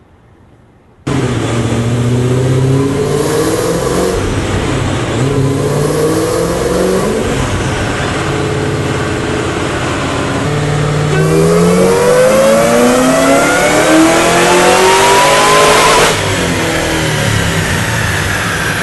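A 900+ horsepower Shelby GT500 Supersnake strapped to a dyno roars to life, its engine revving hard through rising pulls and sustained high-rpm howls, loud and close, with no talking over it.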